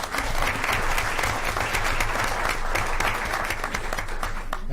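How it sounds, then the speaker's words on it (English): An audience at a school board of education meeting applauds for a group of students and staff, with dense, steady clapping filling the room at a loud, even level throughout. "So let's give them one last final round of applause."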